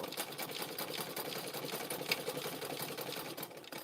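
An old electric sewing machine stitching rope, its needle hammering in a fast, steady mechanical rhythm that stays close and continuous throughout.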